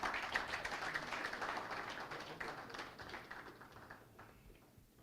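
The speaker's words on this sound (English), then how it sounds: "A round of applause for him." Audience applause at an anniversary lecture in Nigeria: a dense patter of many hands clapping, strongest at the start and gradually thinning and fading over about five seconds, with no talking heard.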